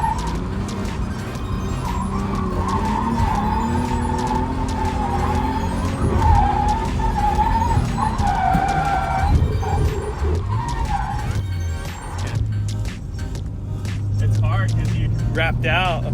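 A Nissan Skyline R34 drifts at Fuji Speedway, its engine wailing and bouncing in pitch as tires squeal and skid in long bursts; voices talk over the car throughout.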